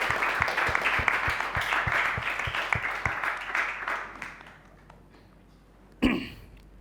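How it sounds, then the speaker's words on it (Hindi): Audience applause at a talent-show event, a dense burst of clapping near the listener that gradually thins and fades over several seconds, followed by a single sharp thump near the end. "तो एक बार जोरदार तालियां हो जाएं उत्कर्ष के लिए"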